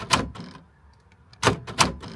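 A car's door lock actuator clicks: one sharp mechanical clack, a quiet pause, then two more quick clacks close together, heard near and with no talking.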